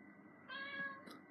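A house cat named as a pet gives a single drawn-out meow lasting about half a second, close and clear over quiet room tone, with a faint higher squeak right after.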